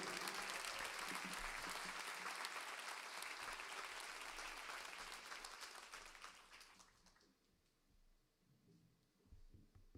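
Audience applause for a musician introduced on stage: a loud, sustained wave of clapping from a full crowd that fades gradually toward the end, with a few scattered claps remaining.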